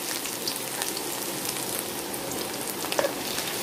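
Chopped garlic and ginger fry in ghee over a high gas flame, giving a steady broadband sizzle with a few faint crackles and no talk.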